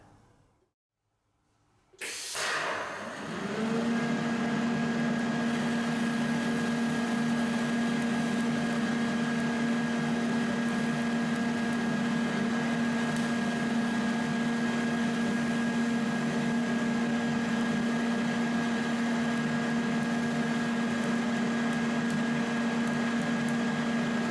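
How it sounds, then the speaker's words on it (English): DC TIG welding on steel, the arc striking after a short silence and then a steady buzzing hum with a faint hiss, held continuously and undisturbed for about twenty seconds. "I'm going to try DC TIG steel weld along there."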